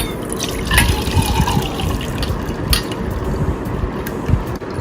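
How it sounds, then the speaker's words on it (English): Water drains from soaked urad dal lentils through a strainer, a close, fairly loud splashing trickle with scattered drips and faint clinks throughout, without speech. "We'll strain out all the water."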